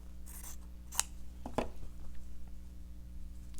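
Scissors snip through fabric for a handmade Christmas fabric book, giving a couple of short, faint cuts near the middle of an otherwise quiet stretch with a steady background hum.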